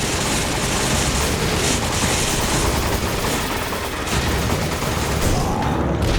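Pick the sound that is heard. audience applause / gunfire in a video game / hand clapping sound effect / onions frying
gunfire in a video game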